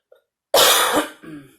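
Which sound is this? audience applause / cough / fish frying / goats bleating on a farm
cough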